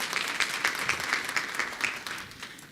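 A room full of people at a town meeting applauding, continuous lively clapping at a fairly close, even level that eases off slightly at the end.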